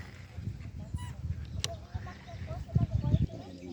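Ducks honk and quack in a flock being fed nearby, scattered calls rising to a busier cluster near the end, mixed with faint background voices and ambient noise.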